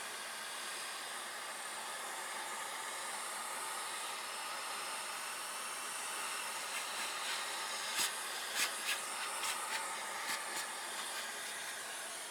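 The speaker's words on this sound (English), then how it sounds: "it's just a matter of airbrushing this, some of the colors that I want" Airbrush spraying paint onto textured oxide sand on a military diorama, a steady close hiss throughout with a few faint ticks near the end.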